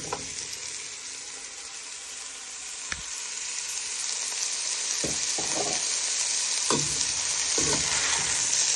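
Vegetables tossed with hoisin pork meatballs in a hot pan, a loud continuous sizzle with several sharp clanks and scrapes of stirring, with no talking.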